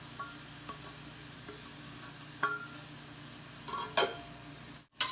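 Onion and tomato with grated ginger sauté in oil, a faint steady sizzle broken by a few soft clinks and scrapes of a stirring utensil.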